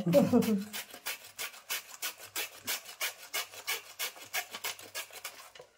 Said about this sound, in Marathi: आता मी ना किसणीवर असं किसून घेते।